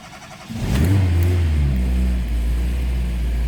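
A Fiat Tempra engine with a nearly dead battery cranks and catches after a brief pause, then revs up and settles into a steady, loud idle.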